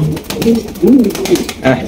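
Fancy pigeons cooing close by in short, throaty, repeated coos, with a person talking over them.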